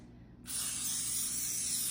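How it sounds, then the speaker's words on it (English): Butter-flavored cooking spray hisses onto a glass baking dish in one steady, continuous burst that starts abruptly and holds at an even level, close and alone. "I'm gonna hit it with a little bit of butter spray so that nothing sticks."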